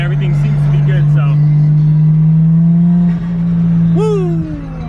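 A Nissan Skyline R34 engine drones loudly and steadily throughout a test drive, with a brief rising whoop of a voice near the end.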